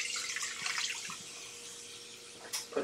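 Liquid for a chicken pot pie filling is poured into a bowl, giving a steady close splashing pour that runs for a few seconds, with a brief clink near the end.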